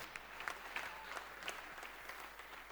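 Church congregation applauding and cheering in praise of Jesus Christ, steady clapping from a roomful of people with scattered louder claps, moderately distant and continuous throughout.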